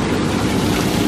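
Water runs and churns steadily in a small jacuzzi hidden in a secret room, a continuous close, loud bubbling wash with no talk over it.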